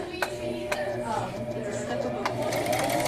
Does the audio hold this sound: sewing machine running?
yes